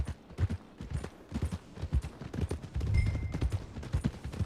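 Horse hooves clip-clopping in the Red Dead Redemption 2 video game, a steady run of soft, near hoof knocks at a walking rhythm, fairly quiet with a faint background hum.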